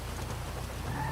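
Rain falls in the GTA V FiveM roleplay video game, a steady hissing wash of drops with a low rumble underneath, continuous and fairly quiet over a brief stretch.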